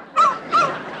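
A small dog lets out two quick, high yipping barks in close succession, loud and near, with no talk over them.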